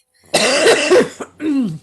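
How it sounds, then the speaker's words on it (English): A series of harsh coughs from a person with a chronic cough, close and loud, in two bursts with a short pause between, ending with a throaty rasp. "I have a chronic cough."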